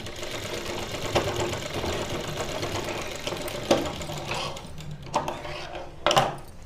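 A sewing machine runs steadily while finishing a seam on a kurti, a continuous close whir broken by a few sharp clicks and knocks toward the end.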